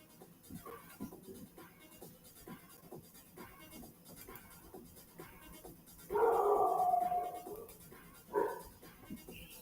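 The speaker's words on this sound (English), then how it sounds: "Fucking dogs." Dogs bark and howl in a loud burst partway through, with a second short yelp after, over a quiet background with faint scattered noises.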